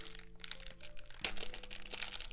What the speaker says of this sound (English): They're in a little plastic bag.